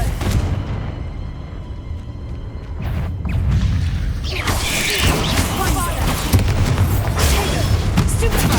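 Confringo blasting spell explosion in Hogwarts Legacy, a broad rumbling boom with crashing, shattering debris that builds about three seconds in and keeps roaring loudly to the end, with game effects layered over it.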